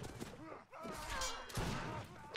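Musket gunfire crackles in a line-battle video game, a ragged volley of overlapping shots heard at a distance, fairly faint and rolling, with one sharper report near the end.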